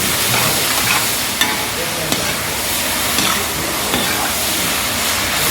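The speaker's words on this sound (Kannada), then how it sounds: "ದೊಣ್ಣೆ ಮೆಣಸು ಹಾಕ್ಕೊಳ್ತಾ ಇದ್ದೇನೆ." Capsicum stir-fried for chilli in a pan over a high flame gives a loud, steady sizzle with occasional scraping stirs, close and continuous throughout.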